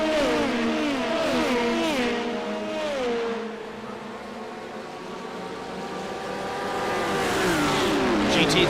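LMP2 prototype race cars accelerating hard at a green-flag start at Road America, loud overlapping engine notes climbing through the gears as the field gets up to speed, with no talk.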